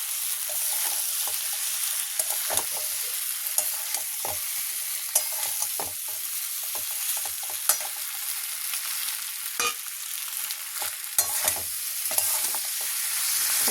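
Fish heads, broken up, are stirred into spiced potatoes frying in a pan for a Bengali murighonto, giving a steady close sizzle with frequent scraping and clicking strokes throughout.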